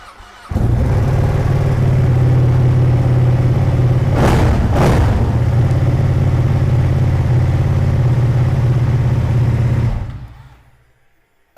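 A Ducati Panigale 959 Corse motorcycle engine fires up and settles into a loud, steady, close idle with a brief blip of revs partway through, running alone until it cuts off near the end.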